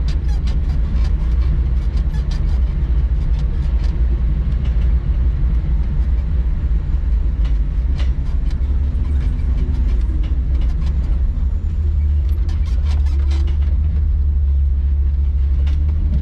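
A loaded log truck drives along with a heavy, constant engine rumble and road noise throughout, alongside scattered rattles and clanks from the load.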